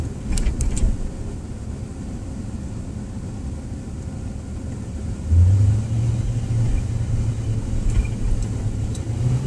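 A car rolls down 16th Street in Chicago with a low, steady engine and road rumble from inside the vehicle, swelling louder midway as it accelerates, with a few faint clicks.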